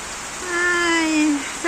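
Steady rain falls over a rural Philippine rice-farming area on a Saturday, a constant wash of hiss beneath a voice speaking throughout.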